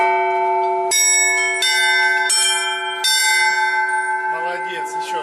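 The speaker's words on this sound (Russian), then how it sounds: "Классно вообще, Данюшка, ты посмотри, какие они красивые, эти колокола." A set of bells is struck in turns, bright ringing strikes with long sustained harmonic tones that overlap and decay, with a few loud new strikes every second or so, close and clear, ending in a quicker jumble of higher chimes.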